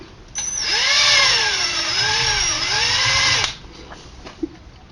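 A power drill whirs for about three seconds, pitch dipping and rising as it bores into wood for a handmade flute, then cuts off, followed by a faint tap.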